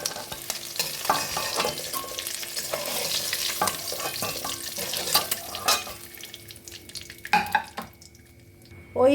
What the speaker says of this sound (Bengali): ওই তেলে আলুগুলো কষে নেব।